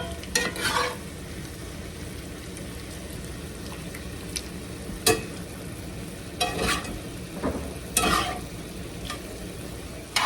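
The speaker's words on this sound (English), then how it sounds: "let that cook about 5 minutes until the sauce is reduced and the steak is cooked" Steak simmers in a reducing sauce in a pan, a soft continuous sizzle and bubbling under a few sharper scrapes and clicks of utensil stirring, fairly quiet and close.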